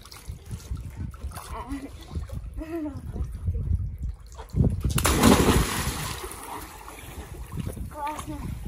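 People talk, then a sudden loud splash and churning water rise near the listener as someone jumps in, settling into lapping and trickling under more talk.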